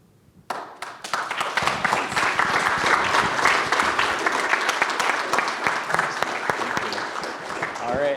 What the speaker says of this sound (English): One more round of applause for Emily Campbell.